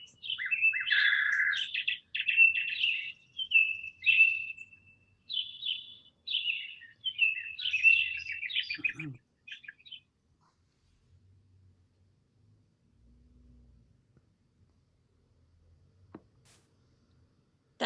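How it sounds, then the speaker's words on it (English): A recording of birds chirping, played back from a computer during an online session, with bright bursts of tweets and trills in a lively run for about ten seconds, then near silence with faint background sounds. "I loved those bird sounds."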